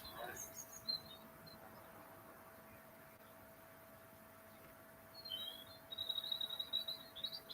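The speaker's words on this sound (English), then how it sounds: "you can hear them through the roof, chirping away" Faint high chirps from small birds come in brief bursts, muffled and distant through a roof, over a steady low hum.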